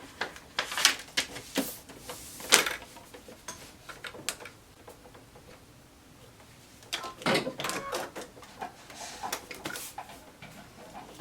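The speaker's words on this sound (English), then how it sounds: "the line right here that we are going to sew between number 1 and number 2" A sewing machine runs in short bursts stitching a quilt block seam at a very small stitch length, rapid ticking chatter starting and stopping close by, with a quiet pause in the middle.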